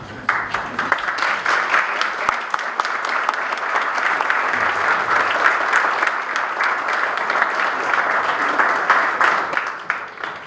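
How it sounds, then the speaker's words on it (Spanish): Sustained audience applause at an indoor blessing and reinauguration ceremony, loud and dense clapping from many hands continuing steadily for about ten seconds with little other sound. "Fuerte los aplausos una vez más."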